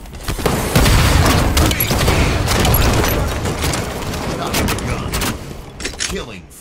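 Gunfire and explosions in a Halo Combat Evolved Anniversary slayer match, with loud, dense bursts of shots and booms. Announcer and player voices cut in over the fighting, and the action tapers toward the end.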